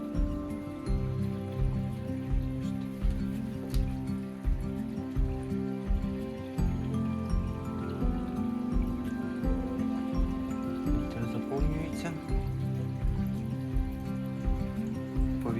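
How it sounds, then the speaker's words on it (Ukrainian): Water filling a Tetra EX 1000 plus aquarium canister filter, a steady close trickling and bubbling flow with a regular pulsing gurgle throughout, no talk. "Набирається, заповняється фільтр водою."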